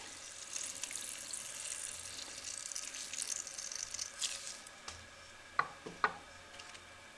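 Bread slices for aloo bread rolls are dipped in water and squeezed, producing a faint watery trickle and patter, then a few distinct drips and splats near the end.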